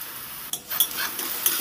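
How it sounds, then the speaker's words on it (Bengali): Chopped onion with ginger and garlic sizzles steadily in hot oil for a beet and carrot dish, broken by a few close scraping stirs and spoon knocks against the pan, with no voices. "আদা রসুনের সাথে ভালো করে নেড়েচেড়ে একটু ভেজে নেব"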